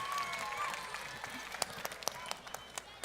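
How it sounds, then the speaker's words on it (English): A festival audience applauds the helpers at a science show, with a faint, brief round of scattered claps. It starts as a soft wash and thins to separate sharp claps, and some background chatter comes through underneath. "Everybody give our helpers here a huge round of applause"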